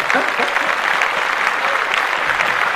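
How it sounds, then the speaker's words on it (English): Dense, steady applause from an audience fills the whole stretch, a continuous wash of many hands clapping at once with a few faint voices mixed in. "Clap that shit up."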